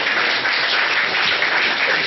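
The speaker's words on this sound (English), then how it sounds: "That's never had a clap before" Audience at a Stewart Lee stand-up comedy show applauding, a dense steady burst of clapping filling the room, close and loud throughout.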